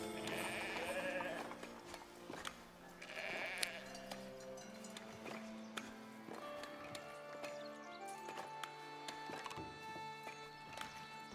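Sheep bleat in the farm-building video game Foundation, with several short bleats and hoof-like clopping mixed into soft, tonal background music, all fairly faint.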